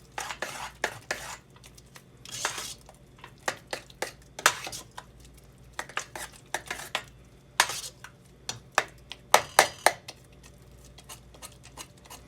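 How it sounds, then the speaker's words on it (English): A spoon scrapes and clanks against a pot while stirring chicken croquette mixture, in irregular bursts with short pauses between, close and fairly loud. "We're going to give that a good stir."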